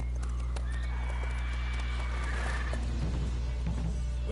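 Roach, the horse in The Witcher 3, gallops with busy clip-clop hoofbeats and neighs loudly and close, all over a steady game soundscape.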